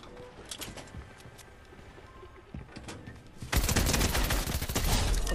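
Gunfire in Fortnite, scattered distant shots at first, then a loud, dense burst of rapid firing that stays heavy to the end.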